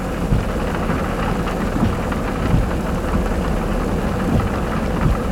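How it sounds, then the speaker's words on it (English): Heavy rain pours down at a campground during an RV tow with a Ford F450, making a loud, constant roar with low rumbling underneath and no talking. "it's pouring down raining"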